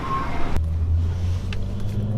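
A lowered Mercedes-Benz W210 E55 rolls along the road, a steady low engine and road hum heard from close by, with a brief sharp knock near the start.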